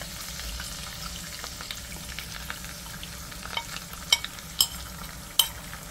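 Curry paste and ginger mixture with langoustes and giant prawns frying in a pan, a steady soft sizzle with stirring scrapes and a few sharp clicks of utensil on pan near the end, no talking.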